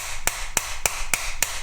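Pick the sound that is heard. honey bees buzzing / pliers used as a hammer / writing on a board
pliers used as a hammer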